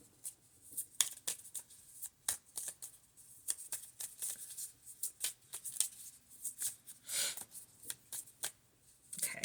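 Tarot cards shuffled by hand in quick, soft bursts of riffling and slapping, close and fairly quiet, with brief pauses between runs.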